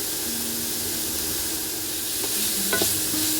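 Capsicum and carrot fry in a pan with a steady, close sizzle and a few light scrapes and clicks as the vegetables are stirred, growing slightly louder toward the end.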